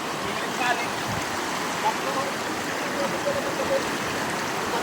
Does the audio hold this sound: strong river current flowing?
yes